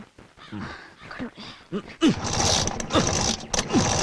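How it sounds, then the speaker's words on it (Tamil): A motorbike is kick-started again and again without firing, giving repeated mechanical clanks and rattles that build into a loud, continuous clattering. A voice is heard briefly at the start. "ஐயோ நல்ல கிக் என்ன ஸ்டார்ட் ஆகல"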